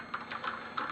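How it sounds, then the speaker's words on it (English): Keys clatter in quick, light bursts on a Filco Majestouch TKL keyboard fitted with Cherry MX Red linear switches and Raindrop V2 keycaps, several soft taps close up and fairly quiet, with no talking. "This one is Cherry MX Reds,"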